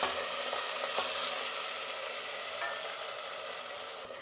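Ground masala paste and fennel seeds frying in hot oil for mutton pulusu, a steady close sizzle and hiss that holds throughout with faint stirring scrapes.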